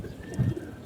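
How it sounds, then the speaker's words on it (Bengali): Pigeons kept as pets cooing at close range, a soft low murmur swelling briefly in the middle amid faint background noise. "যে কবুতর গুলো ডাকাডাকি করতেছে"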